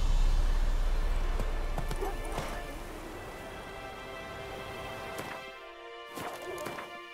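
A horse gallops in The Witcher 3, its hoofbeats rapid and continuous under a loud game ambience of wind or rain, fading somewhat toward the end with a few sharper knocks.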